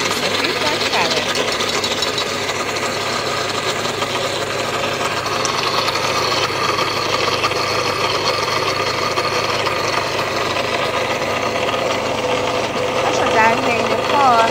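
Food processor motor running at low speed while blending pistachio butter with white chocolate, a loud continuous whirring hum with a gritty rattle that holds steady throughout.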